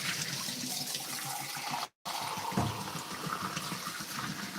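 Hot water runs from a kitchen faucet while someone cooks sopes de desebrada de res, a steady faint splashing stream with a brief break midway, no voices.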